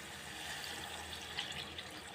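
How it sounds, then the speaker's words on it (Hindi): A glass of water is poured into gola kabab curry cooking in a pot to make gravy, a soft continuous splashing and trickling, faint and steady with no talk. "अब हमने अपने जितनी ग्रेवी बनानी है उतना ही पानी इसमें ऐड कर देंगे"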